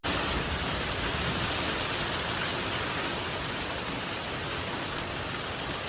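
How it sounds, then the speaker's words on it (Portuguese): Heavy rain pours down after a windstorm at a countryside farm, a dense, loud and constant roar of drops hitting surfaces throughout, with no voices. "depois de uma ventania dessa só podia cair um chuvão"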